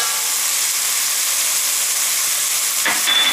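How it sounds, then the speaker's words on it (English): Potato starch is stirred into potatoes cooking in a hot pan for corn and smoked salmon chowder, a loud continuous sizzle and hiss that stays steady throughout with a brief scrape near the end. "I am now going to add the potato starch"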